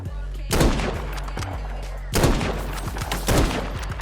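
Rifle gunfire in the video game Krunker, modelled on the M1 Garand: a few loud, punchy shots with long echoing tails, close and spaced a second or more apart over a low background hum.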